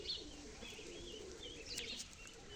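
A male pigeon coos softly in a loft among other birds, a low, faint, murmuring call over steady background noise, with a brief higher chirp near the end.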